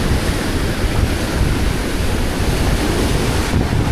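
Ocean waves wash and splash onto the shore in a continuous loud roar of surf, with wind buffeting the microphone and no voices.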